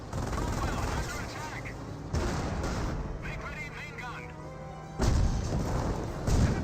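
Battlefield gunfire from tanks and infantry in Company of Heroes, with booming cannon shots and rattling small-arms fire layered loudly and continuously, punctuated by heavier blasts.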